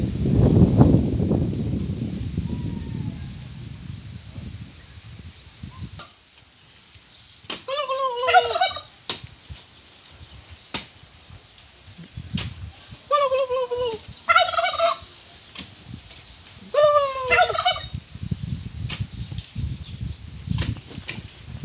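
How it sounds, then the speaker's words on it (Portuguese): Around sixteen turkeys gobble in repeated bursts at moderate distance, with short quiet gaps between calls and faint outdoor background. "Tem em torno de 16 perus"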